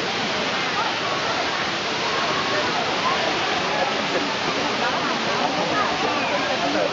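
Steady, loud rushing of Tat Kuang Si Waterfalls in Laos at close range, a dense unbroken roar with faint voices mixed underneath.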